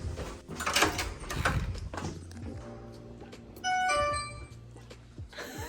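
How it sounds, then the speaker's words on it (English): A hotel room doorbell chimes once near the middle with a bright ringing tone that hangs briefly, following some indistinct room noise and movement. "We have a doorbell. Instead of knocking, that is really classy."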